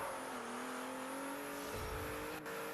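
Pagani Huayra engine in the racing video game Forza Horizon, a steady high revving drone held under load with a faint tire squeal, loud and continuous throughout.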